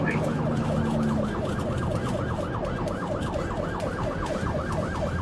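Police car siren wailing in fast, repeated up-and-down sweeps during a high-speed chase, loud and continuous over road and engine noise.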